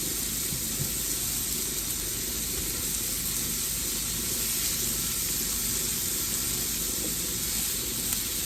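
Shrimp sizzle in a hot pan, a steady dense hiss that carries on without a break for the whole stretch, close and moderately loud.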